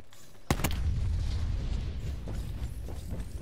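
Explosion in a shooter video game, a sharp loud burst near the start followed by a sustained rumbling roar that lingers through the rest of the moment.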